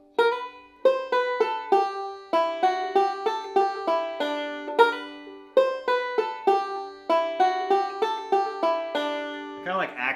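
Banjo picking the fiddle tune Shove The Pig's Foot A Little Further Into The Fire without the pickup note, bright plucked notes in quick rolling phrases with some sliding, played close and clear with no talking.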